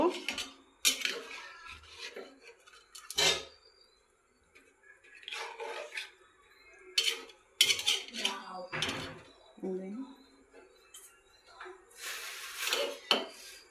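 Metal utensil scraping and clinking against a wok while stirring hilsa fish curry in irregular bursts, close and moderately loud, with quiet gaps between strokes.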